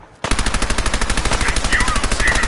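Loud, rapid automatic gunfire from Fallout 4 bursts in after a brief near-silent moment and keeps hammering in an even, unbroken rhythm to the end.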